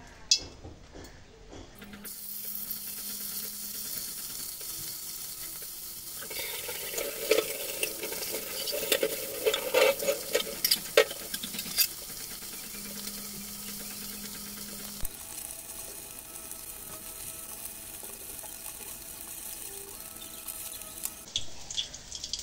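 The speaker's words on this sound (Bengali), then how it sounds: "এখন এই যে মাখা পাবদা মাছগুলো একে একে করে সুন্দর" Marinated pabda fish frying crisp in hot oil in a wok, a moderate sizzle with bursts of crackling and occasional stirring and water sounds nearby, no talking.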